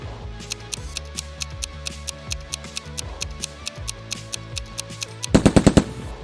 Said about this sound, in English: PARAFAL's sound profile is described.